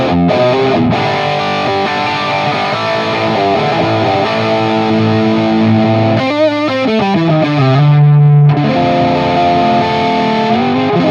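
A fake Gibson Les Paul Custom electric guitar is played with reduced gain, giving loud, sustained, mildly distorted chords and notes with a run of quick bends or slides midway, with no other sound.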